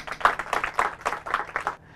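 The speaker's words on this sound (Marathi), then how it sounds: "परत एकदा यांचं सगळ्यांना टाळ्या" About seven distinct, evenly paced handclaps ring out at a school team quiz event. They are moderately loud and fairly close, then stop abruptly near the end and leave a quiet tail.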